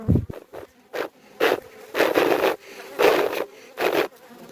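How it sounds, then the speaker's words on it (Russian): Honey bees buzz around a hive frame as a beekeeper blows on them, with repeated bursts of breathy blowing over a steady, close insect hum. "Раздуваю пчел, внимательно смотрим."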